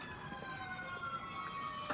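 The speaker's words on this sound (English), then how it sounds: "hear the sirens." Distant emergency sirens wail faintly with steady drawn-out tones over low traffic rumble, no voices present.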